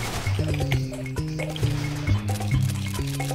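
Water being drunk in the co-op shooter Sven Co-op during the They Hunger campaign: liquid gulping and trickling under bright, ringing tonal game notes that repeat in short bursts throughout.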